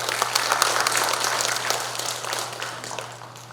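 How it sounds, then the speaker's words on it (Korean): Applause from a crowd of delegates at a Democratic Party regional convention, dense and steady clapping that fills the hall, fairly loud, easing slightly toward the end with no voices over it. "여러분 큰 박수로 맞으시기 바랍니다."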